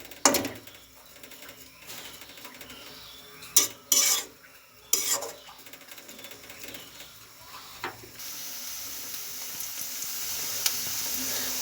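Onions frying in a pan for a dried-fish dish, with a few sharp spatula scrapes and clinks early on, then a steadier, louder hiss of sizzling oil filling the second half.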